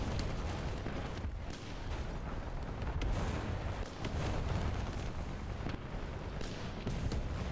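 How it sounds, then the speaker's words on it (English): An autocannon in War Thunder's April Fools mobile infantry mode fires in a dense, continuous roar of rapid shots with rumbling impacts, loud and unbroken throughout. "Why is this working so well? Oh right, because it's an autocannon"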